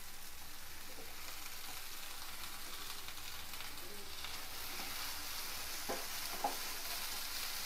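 Vegetables and paneer sizzle steadily in a pan, a faint, even crackle of frying that runs throughout, with a few soft clicks of a utensil near the end and no voices.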